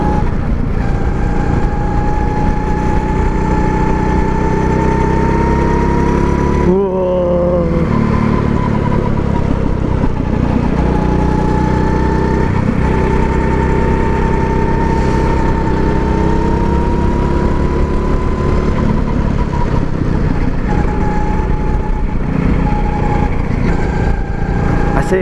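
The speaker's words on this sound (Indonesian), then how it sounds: "hari ini main go-kart. Gue lagi di New Zealand, terus main go-kart" Go-kart engines drone on an outdoor racing track in New Zealand, a loud, continuous buzzing whine that rises and falls with revving, and it briefly dips around one pass partway through.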